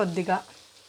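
Chicken fries with garam masala, biryani masala, chicken masala and lemon juice, a soft sizzle swelling in two brief bursts before settling to a quieter hiss.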